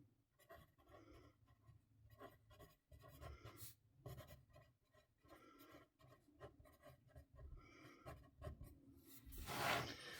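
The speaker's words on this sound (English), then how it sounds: "I need to write the palette name first." A pen scratches out a palette name by hand on paper, with short bursts of close, dry scribbling separated by brief pauses and a louder rub at the end.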